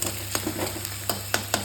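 Onions frying in a pan, a soft continuous sizzle broken by occasional sharp scraping or stirring clicks, close and fairly quiet.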